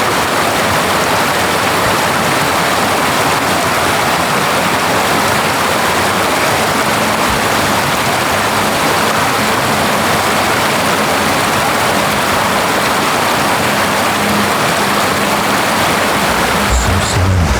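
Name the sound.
waterfall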